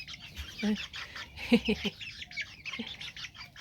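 Small mini Cochin chicks peep in a steady stream of thin, high chirps close by, with a few low murmurs underneath.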